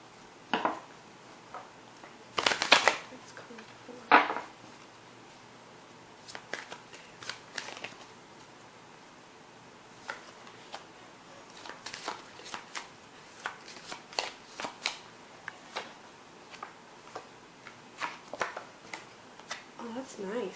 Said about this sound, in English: So let's start shuffling here